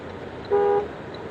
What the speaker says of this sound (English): I didn't mean to honk my horn like that.